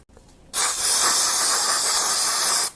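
A single sustained aerosol spray of brake cleaner onto brake caliper pistons hisses loudly for about two seconds, starting abruptly and cutting off sharply, close to the listener.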